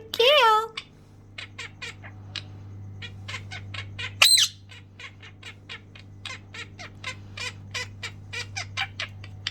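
A pet budgie gives a loud, harsh squawk at the start and another midway, between rapid, steady, chattering chirps. A constant low hum runs underneath.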